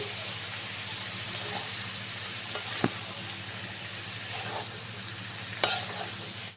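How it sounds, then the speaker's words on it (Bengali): Boiled jackfruit being stir-fried with spices for a vegetarian curry, giving a faint, steady sizzle with a few sharp utensil clicks against the pan. "এবার ভালো করে মশলার সাথে কষিয়ে নিতে হবে"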